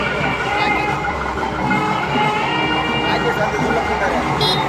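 A 108 ambulance siren sounds on a busy road during a hill-village festival, a steady wailing tone held over dense traffic and crowd noise with people talking throughout.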